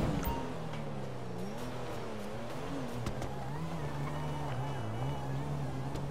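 A car in GTA Online drives off with a continuous engine rumble that wavers in pitch as it speeds up, with a few sharp clicks and knocks over the top and no clear talk.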